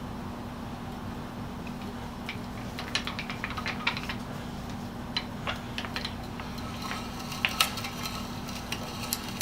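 A sharpened auger bit bores into wood, its spurs scribing the edge and slicing out chips, producing dense, close crisp ticks and crackles over a steady low hum, with no voices.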